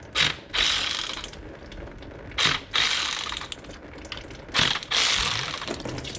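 Ratchet wrench clicking in quick bursts while loosening the transmission pan bolts on a 2003 Dodge Ram 3500 with a 5.9 diesel and automatic transmission, three close, loud runs of ratcheting separated by short pauses.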